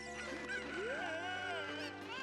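Chickens in the Zelda: Ocarina of Time video game cluck and squawk in a short, close burst of rising and falling calls, with faint game sounds underneath.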